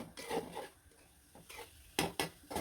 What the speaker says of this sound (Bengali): মাছগুলো ভালো করে কষিয়ে নেব মশলার সাথে